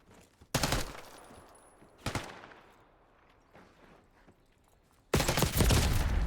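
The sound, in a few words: gunfight gunfire in the video game Black Ops 6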